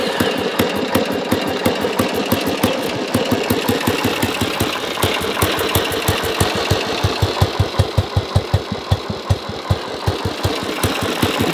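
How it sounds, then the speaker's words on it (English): A warm Royal Enfield Bullet motorcycle, restored after sitting for five years, starts and settles into a loud, steady thumping idle with an evenly spaced single-cylinder beat, heard close and alone. "If I come here and turn the bike on,"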